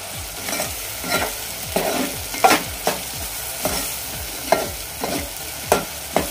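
Spices with salt being sautéed in oil with a spoon for bombil rice, steady sizzling under rhythmic scraping strokes roughly every half second, close and fairly loud, no talk.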